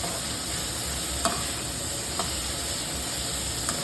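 Vegetables, including beans, sautéing in a hot pan for restaurant-style Schezwan noodles, a steady hiss and sizzle marked by a few faint clinks of the spatula, with no talking.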